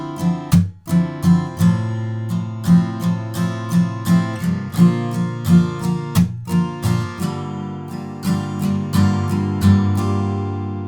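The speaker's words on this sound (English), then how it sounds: "if you want that percussive mute, just take your palm and hit the strings at the same time as that strum" Acoustic guitar strummed in a steady rhythmic pattern for the chords of a song, with a percussive palm slap hitting the strings in time with the strums, played alone with no voices.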